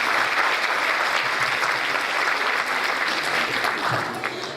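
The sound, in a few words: applause at a ballet studio concert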